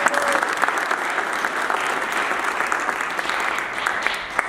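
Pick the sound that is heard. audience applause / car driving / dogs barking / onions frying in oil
audience applause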